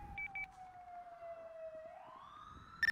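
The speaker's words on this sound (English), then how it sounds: "I hear a siren and an air horn currently" An emergency vehicle siren sounds in a video game, a steady wailing tone that slowly dips and then climbs again, fairly faint and distant over a quiet background, with short high beeps near the start and no voices.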